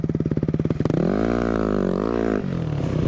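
A KTM or Yamaha enduro motorcycle engine on a trail, first chugging in rapid pulses, then revving up into a loud, steady, strained drone close by with the clutch slipping, with no talk over it.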